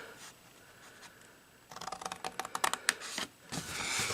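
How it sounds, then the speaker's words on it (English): Scissors snip through paper along a score line while an envelope is turned into a popcorn box, a quick run of crisp, close cuts followed by a short rustle. "I'm cutting on this side of this score line."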